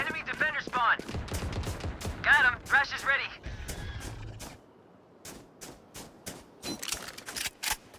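Weapons fire in a Valorant match, with clusters of sharp shots and bursts dense at first and then spaced out, layered with other game effects and what seem to be voices.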